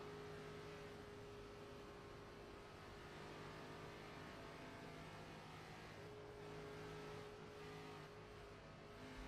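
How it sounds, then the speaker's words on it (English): A stock race car in the iRacing sim at Talladega Superspeedway runs out of fuel, its engine droning loud and steady for several seconds before faltering and sputtering near the end, with no voices. "The car's sputtering. He's out of fuel down the backstretch"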